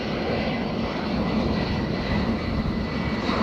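An airliner on landing approach at Dublin Airport on a windy morning, a steady, loud broadband engine roar sustained throughout with no pauses and no talk.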